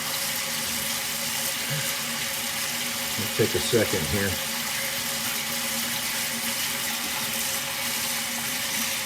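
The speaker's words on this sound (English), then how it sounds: "let the water run until it gets hot." A kitchen sink faucet runs steadily with a broad, constant hiss of water, with a short clatter midway; someone speaks briefly over the flow.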